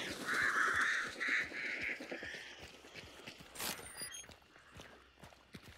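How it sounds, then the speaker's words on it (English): Crows cawing in Hunt: Showdown after a player disturbs them, several loud harsh caws in quick bursts at the start over rapid footsteps, then the footsteps continue with faint thuds. "I'm alerting the birds."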